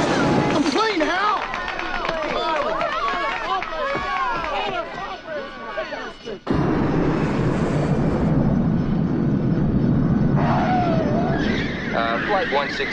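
An airplane engine roars as the aircraft flies low over an interstate highway. Voices talk over a busy stretch, then a loud, steady broadband drone takes over and holds.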